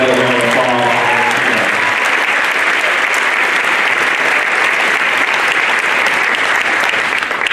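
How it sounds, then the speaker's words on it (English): Loud, dense applause fills an athletic signing ceremony, a sustained roar of many hands clapping close by, with a faint voice at the very start before the clapping takes over. "Let's give her another round of applause."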